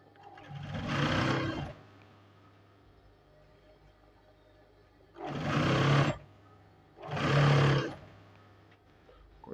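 A sewing machine stitches a trouser seam in three separate runs, each a close whirring hum lasting about one to two seconds, with quiet pauses between them.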